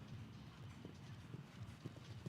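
Hooves clip-clop in a fast, even rhythm as a horse canters through a 1.50m FEI 5* show jumping round, faint and somewhat distant against a steady background.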